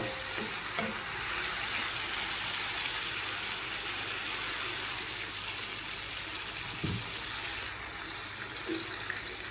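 Spice paste for Bengali-style koi fish sizzles and fries in a pan as a little water is added, a steady crackling hiss with a few faint thumps of stirring.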